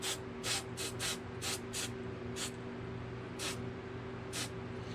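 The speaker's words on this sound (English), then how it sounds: "So I'll spray a little bit in there." An aerosol can of lubricant sprays into a door knob mechanism in a string of short hissing bursts, some quick and clustered, others spaced apart, close up over a low steady hum.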